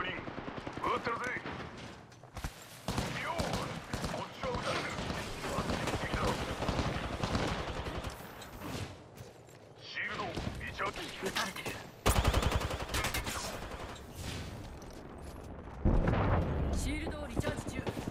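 Sustained gunfire rattles through an Apex Legends match, with rapid automatic bursts and heavier blasts coming in dense waves, loud and close, broken by brief lulls, with in-game voice lines heard between.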